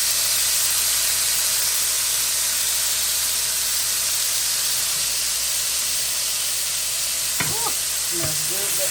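Swai fish seasoned with lemon pepper sizzles on a griddle pan in a steady, loud hiss, with a couple of brief clinks of a utensil near the end.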